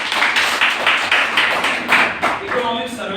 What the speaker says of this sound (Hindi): तो एक बार जोरदार तालियां दो इसके लिए